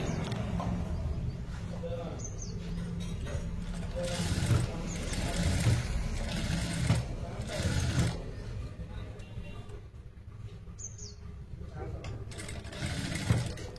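A sewing machine stitches piping on a cutwork blouse, running in repeated whirring bursts with brief pauses between them while someone talks over the work.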